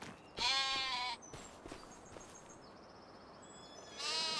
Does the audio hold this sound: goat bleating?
yes